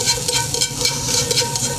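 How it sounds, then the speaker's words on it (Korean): King oyster mushrooms are stir-fried quickly in a hot pan for a Korean gujeolpan platter, with close scraping, stirring strokes and a soft sizzle pulsing in quick rhythm. "볶고 그 다음에 새송이를 한번 볶아 보겠습니다"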